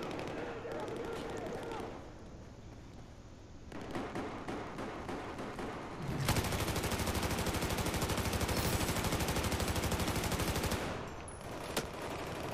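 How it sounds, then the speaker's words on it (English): Heavy automatic gunfire from a Battlefield 4 multiplayer Rush match, with sporadic shots early on, then a loud, dense, continuous burst of rapid fire in the middle before it eases back to scattered shooting. "I just shot another guy."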